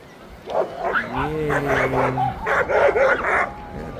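A dog barks and yips several times in quick succession, fairly close, with a faint whimpering tone between barks, outdoors at a cherry blossom spot.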